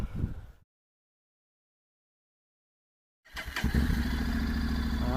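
A new Honda motorcycle engine starts after a short silence and settles into a steady, close idle with a low, even rumble.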